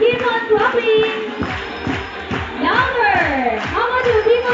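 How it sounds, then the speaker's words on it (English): An audience at a bird show claps in a steady rhythm, the repeated claps sitting under a loud amplified voice talking over them. "Everybody, let's keep on clapping!"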